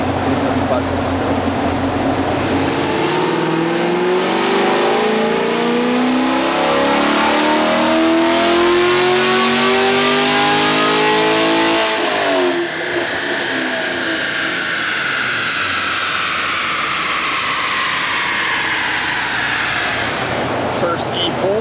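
A Corvette C6 Z06 engine on a dyno runs a full pull, its note climbing loud and sustained through the revs before cutting back, then settling into a lower drone.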